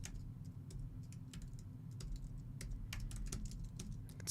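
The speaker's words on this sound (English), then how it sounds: "See me trip over my typing." Fast, uneven clicking of keys on a computer keyboard, close and fairly quiet over a low steady hum, with no talking.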